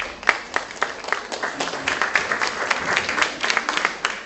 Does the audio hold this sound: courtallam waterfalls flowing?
no